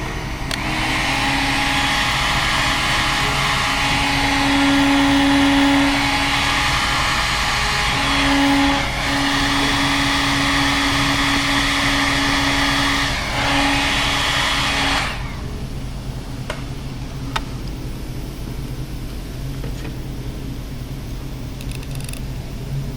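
A heat gun blows hot air onto a hose fitting during a hybrid Lexus LX700h upgrade, a steady loud whooshing roar with a faint whine that runs for about fifteen seconds, then cuts off, leaving quieter background noise.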